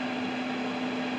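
A food dehydrator loaded with venison jerky runs on medium heat, giving a loud, steady electrical hum with a whooshing fan blowing evenly, unchanging and close by.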